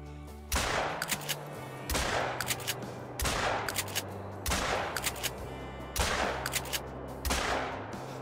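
Shotgun blasts ring out during a quail hunt in Call of the Wild with a Labrador retriever, about six loud, sharp reports at roughly even intervals, each trailing into a brief echo.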